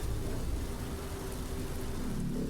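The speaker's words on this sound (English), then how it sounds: "A city soaked by rain." Steady rain from the video game Vampire Rain, a dense continuous hiss with low rumbling underneath, even and unbroken throughout at moderate level, with no voices.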